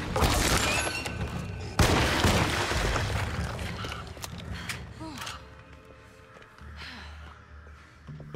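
Gunfire and loud impacts from the survival-horror game Alone in the Dark, with dense booming blasts early on and a sharp burst near two seconds, then fading into quieter ambient game noise.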